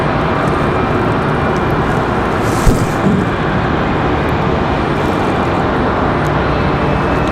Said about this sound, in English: Frontier 3322. An A320 Neo.